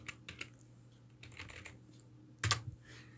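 Fast bursts of keystrokes on a computer keyboard, quiet and close, with a louder cluster of clicks near the end.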